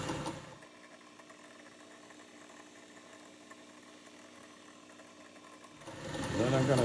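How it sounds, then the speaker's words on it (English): Continuous mechanical whir of a drill boring holes in a metal muffler or spark suppressor part for a hit-and-miss engine, steady and fairly close, rising louder toward the end. "finish drilling and tapping those holes"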